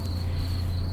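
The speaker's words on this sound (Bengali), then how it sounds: "ঝিঝি পোকা ডাকছে," At night in a lonely, silent spot, crickets keep up a steady, unbroken high trill over a low background hum.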